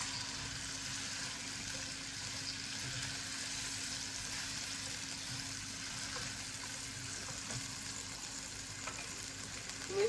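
Onions and prawns frying in a pan for prawn fried rice give a steady, even sizzle that holds close and continuous throughout, with a faint low hum underneath.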